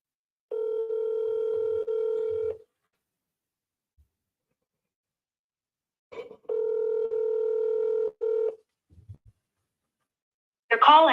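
A telephone number is dialed for commercial real estate cold calls: two spells of steady dial tone, each followed by a short run of keypad beeps, close and clear, and a voice starts at the very end.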